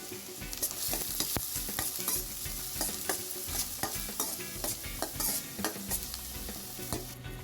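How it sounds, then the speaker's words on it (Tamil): Chopped onions frying and sizzling in oil in a pan, with repeated stirring scrapes and clatter over a steady sizzle, close and fairly loud. "ஆட் பண்ணதுக்கப்புறம் லைட்டாக ஃப்ரை பண்ணிக்கலாம்."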